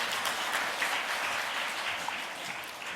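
A church congregation applauds one another during a Korean Sunday worship service, a steady wash of many hands clapping at moderate distance, fairly even and sustained throughout with no talking.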